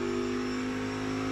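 NASCAR Cup Series race car, the 97 or 41 Chevrolet, running laps at Sonoma Raceway during practice, heard as a steady engine drone with a strong sustained hum, continuous and fairly close, without audible revving peaks.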